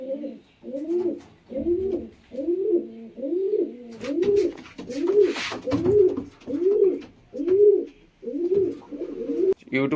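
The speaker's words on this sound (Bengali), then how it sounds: "ফুল ডানা দেওয়া রয়েছে পায়রা দুটো" A pair of domestic pigeons coo close by in a steady rhythmic series of about a dozen soft, rolling coos. There is only faint background noise and no talking.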